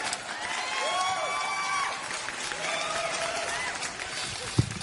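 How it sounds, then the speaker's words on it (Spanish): A studio audience claps in a sustained, moderate round of applause heard at some distance, with faint background voices mixed in and a single sharp knock near the end. "¿Cuánto le estarán pagando a esa gente para que aplauda?"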